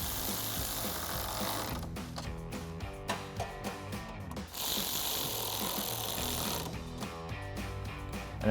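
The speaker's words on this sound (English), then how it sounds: "I'm getting a bolt with a 10 mil socket and extension to get these started, and then I'll throw my ratchet on the other side." A ratchet with a 10 mm socket and extension turns grille bolts on a 2014-2015 Chevrolet Silverado 1500, giving rapid clicking pawl bursts in steady runs over a constant background hum.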